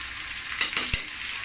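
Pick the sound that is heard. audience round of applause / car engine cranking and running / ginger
ginger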